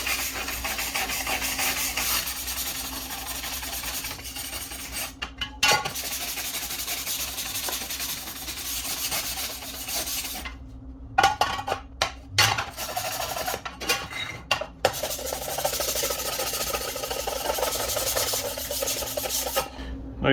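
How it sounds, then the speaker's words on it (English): A wire brush kept only for aluminum scrubs aluminum clean before welding, a loud, steady rasping that runs nearly throughout, broken by a few short pauses and choppy strokes. "you want a wire brush just for aluminum"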